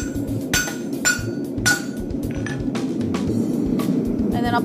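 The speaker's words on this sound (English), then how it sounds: "now that the metal is a yellow heat, I can hammer on it" Sharp metallic hammer strikes on yellow-hot metal at a forge ring out in an uneven series, close and loud, over a steady roaring hum.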